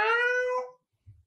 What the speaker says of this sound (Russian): если в видео слышите такие мяу-мяу-мяу-мяу-мяу, не обращайте внимания